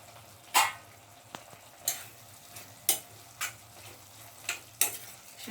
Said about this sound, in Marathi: थोडंसं पाणी ऍड करूया.